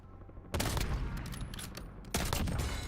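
Rapid bursts of gunfire in the video game Warzone, two loud volleys opening around half a second and again near two seconds, dense and close with overlapping shots.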